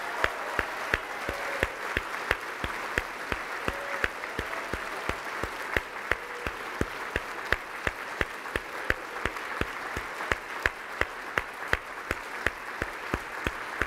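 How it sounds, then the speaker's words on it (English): A round of applause at an award dinner, with steady, distinct claps from a modest crowd repeating in a clear rhythm for the whole stretch. "I want you to give a special round of applause to this man."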